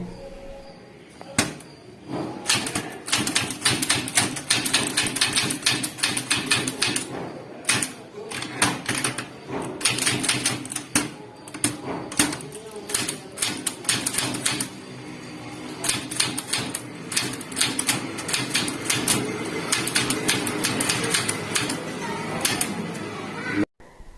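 Keys clack rapidly on a manual typewriter during an English typing lesson, in bursts of quick strikes with short pauses, under an instructor's voice.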